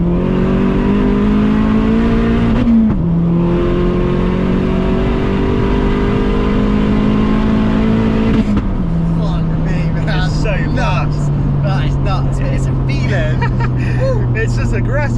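A modified 552bhp Vauxhall Astra VXR accelerates hard, its engine note climbing loudly through the gears with a sharp break at a shift, then settling into a lower drone as people talk inside the car.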